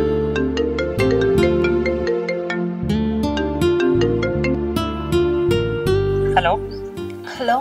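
A phone on speakerphone rings with a repeating melodic ringtone, steady and moderately loud, with brief voice sounds at the end.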